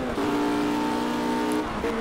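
A Caterham race car engine in the racing game Project Cars holds a steady, loud droning note with a brief shift in pitch near the end, and no one speaks.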